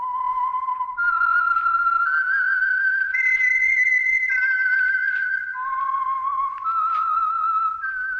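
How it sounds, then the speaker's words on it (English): A lone person whistles a slow, eerie signature tune, clear and loud, each held note stepping up or down with a slight waver; the whistle opens the old-time radio mystery show The Whistler. "That whistle is your signal for the Signal Oil Program"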